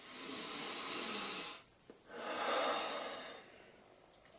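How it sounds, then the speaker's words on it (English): Slow, deep human breathing: a long airy inhale, a brief pause, then a fuller exhale, close and soft with no talking. "Just deep breathing."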